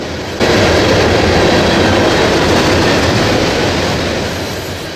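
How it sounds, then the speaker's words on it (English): A CSX freight train led by four Pan Am Railways SD40-2 locomotives rolls past close by on the Columbus Subdivision, a loud continuous roar of engines and clattering wagons that holds steady and fades slightly at the end. "Four Pan Am Railways SD40-2s have somehow found their way onto the train today"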